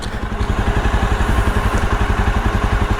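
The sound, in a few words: motorcycle idling with radiator fan running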